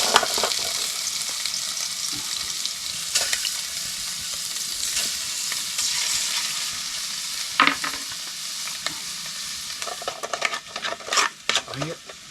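Food sizzles steadily in hot oil over an open wood fire in a Tupi-Guarani village, a dense continuous crackle with a few sharper pops and clatters near the end and occasional voices.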